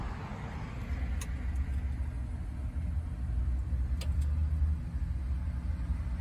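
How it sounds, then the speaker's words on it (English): A car rolls up toward a traffic light stop bar, its steady low engine rumble and tire noise close and constant, with a couple of faint clicks above it. "Here comes a car here."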